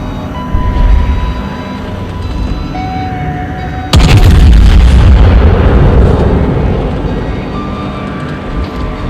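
Main guns of the German battleship Bismarck firing in a naval video game: a loud sudden broadside blast that rolls into a long rumbling tail over a steady engine-like hum.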